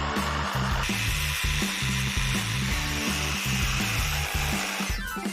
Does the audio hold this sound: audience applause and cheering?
no